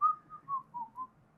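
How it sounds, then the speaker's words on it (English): A person whistles a short song melody, five clear phrased notes gliding slightly downward over about a second and a half, close and alone without any talk. "I can just whistle the tune"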